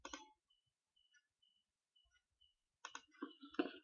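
Mouse clicks on a computer while installing software, sharp and close: a quick click at the start, faint ticks across a quiet stretch, then a cluster of crisp clicks near the end.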